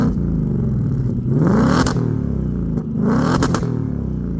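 A 2024 Ford Mustang GT with active exhaust revs loudly nearby, rising twice in throaty bursts from a steady idle, with crackles as the revs drop.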